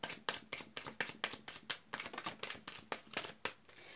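A deck of playing cards being shuffled up close, a fast run of about fourteen crisp riffling bursts in steady rhythm, each a sharp papery flutter over four seconds, with no talking.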